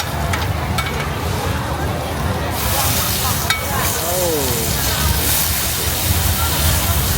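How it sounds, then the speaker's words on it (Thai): Steady sizzling and crackling of seafood oyster omelette frying in a hot pan at a busy Thai street food stall, with voices murmuring in the background. "กระทะร้อนแบบนี้เลย"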